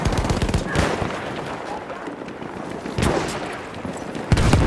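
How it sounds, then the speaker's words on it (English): A machine gun fires in a few separate short bursts spaced a second or two apart, sharp and moderately loud against background noise. "I'm looking at a machine gun."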